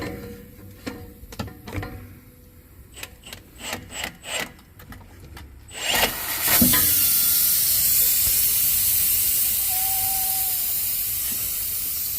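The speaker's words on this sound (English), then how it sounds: "To release the pressure in the bag" A steady, loud hiss of air escaping from a drilled Lincoln Town Car air suspension bag, starting abruptly after some scattered knocks and clicks, then holding evenly and tapering only slightly.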